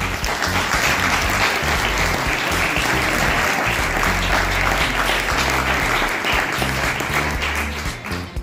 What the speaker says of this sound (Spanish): Otro aplauso también de despedida para Alaya Aldaba Ayue